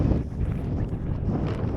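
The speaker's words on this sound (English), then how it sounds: "now and again you get a proper gust coming down this sort of channel here" Steady wind buffeting the microphone on a motor boat on the River Odet, a broad low rumble that holds loud from start to finish with no pause.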